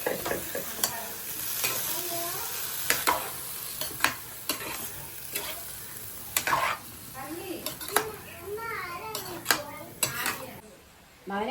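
Koorkka (Chinese potato) being stir-fried in a pan for upperi, with a steady sizzle under repeated sharp scrapes and clinks of a utensil against the pan, and a voice talking intermittently.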